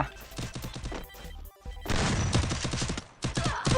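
Gunfire in the mobile shooter Free Fire: dense, rapid bursts of automatic shots crackle in two loud volleys separated by a brief lull, then a shorter flurry at the end.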